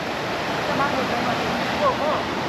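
Water flowing beside a landslide area on the Gosaikunda trek trail: a steady broadband rush, close and fairly loud, with people talking over it.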